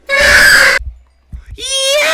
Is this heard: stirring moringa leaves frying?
no